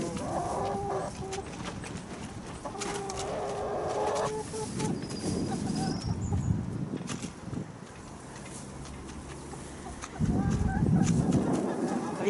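Tame hens on an allotment cluck and murmur close by in short irregular bursts, with a louder flurry of clucking near the end and brief quiet speech mixed in.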